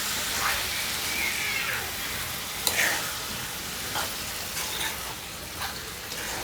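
Gizzard curry frying in a little oil while being stirred, a steady loud sizzle with scraping and clicking from the spoon against the pan throughout, no voices.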